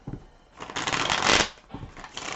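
One close riffle shuffle of a tarot deck, a crisp papery flutter building over about a second, then fading into softer handling.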